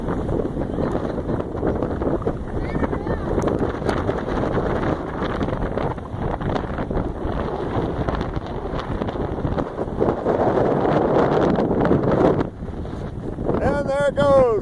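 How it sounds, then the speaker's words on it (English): Strong wind buffets the microphone at a beach, a continuous loud roar with gusts, while people shout and call out over it and a voice rises near the end. "Windy day now."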